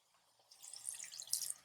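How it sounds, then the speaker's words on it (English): Water being poured into a pot of plant-based bean curry, a faint splashing trickle that builds over a second or so, near and quiet with no talking. "also add the water."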